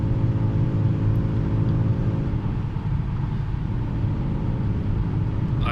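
A Ford Mustang 3.7 V6 with headers, H-pipe, deleted catalytic converters and a Borla ATAK exhaust cruises at about 2,000 RPM, giving a loud, steady low-pitched exhaust rumble heard from inside the car with no talking.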